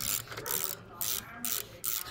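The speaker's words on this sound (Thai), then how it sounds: "สลักถังออก" A ratchet loosens the bolts on a fuel tank with quick bursts of close, loud clicking. There are about five short ratcheting strokes with brief pauses between them and no speech.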